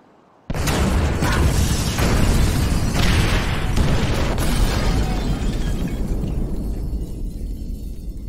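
Incendiary explosives detonating in GTA 5 during a bureau raid: after a short quiet start, a sudden loud blast erupts into a long, roaring, crackling burn with further bursts layered in, slowly easing off.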